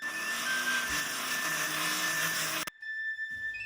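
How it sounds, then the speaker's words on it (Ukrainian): A blender whirs steadily at high speed for a few seconds, whipping pumpkin puree, then cuts off abruptly, leaving a quiet room. "І далі все буду збивати за допомогою блендера."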